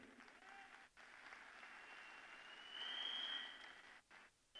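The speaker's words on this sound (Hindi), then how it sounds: "यस, तालियां हो सकती है।" An audience applauding, a continuous wash of clapping that swells midway and then tapers with brief gaps.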